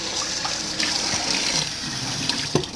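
Water runs from a tap over a palm leaf hat in a sink, a steady close splashing hiss with small irregular spatters as the stream hits the woven leaf.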